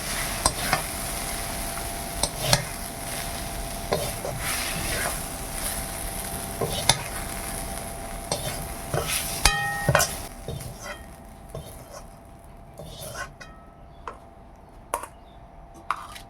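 Susuni greens frying in a pan give a steady soft sizzle while a utensil scrapes and stirs in irregular strokes, the sizzle thinning toward the end as a few sharp clinks and scrapes continue.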